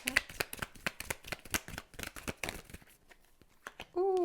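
Tarot cards shuffled and drawn by hand, a dense run of quick crisp riffling flicks and slaps, close and fairly loud, ending with a short bright tone.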